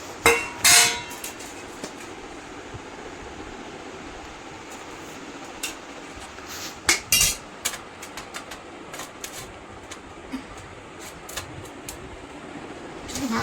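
Rice being served onto a plate with kitchen utensils: sparse, sharp metallic clinks and taps, some clustered around the start and middle, over a steady low room hum, with no talking.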